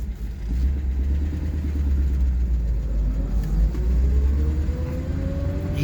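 A 1941 Buick Super 56C convertible coupe driving, with a steady low engine rumble close by and a rising tone as it gathers speed, no talking.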